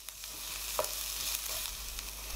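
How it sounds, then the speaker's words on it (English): Onion and minced garlic fry in olive oil over medium heat, a soft steady sizzle with a few faint stirring clicks. "Add the onion and cook it until it's soft."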